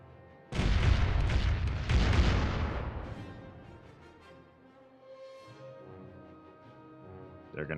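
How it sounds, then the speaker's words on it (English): Cannons fire in a pirate ship battle in the game Caribbean Legend: Age of Pirates, a loud rolling burst of booms that rumbles and fades over several seconds, followed by quieter clatter and a fresh thump at the end. "we can sit back and just cannon battle this ship"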